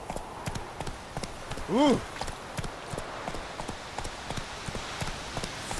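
Horse hooves in The Witcher 3 video game clop at a steady trotting pace under game music and ambience, with a brief vocal exclamation partway through and a voice speaking around the hoofbeats.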